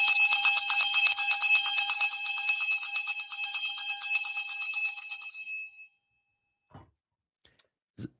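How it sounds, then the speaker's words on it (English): A bell rings at the close of the stock market, a loud sustained metallic clanging that rings steadily for about five seconds then stops abruptly, followed by a few faint clicks. "That's my tie bet bell."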